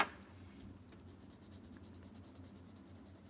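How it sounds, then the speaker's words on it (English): An old handheld pencil sharpener grinds a pencil in a steady, close scraping rasp that runs continuously without talk. "In some ways, I prefer a handheld sharpener over a electronic sharpener."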